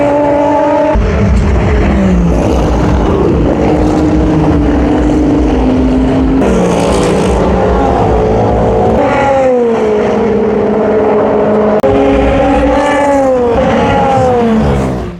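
Race cars at the Le Mans 24 Hours scream past one after another at full speed along the straights, seen from a raised mound by the paddock. Loud roaring engines rise and fall in pitch with each pass and overlap continuously.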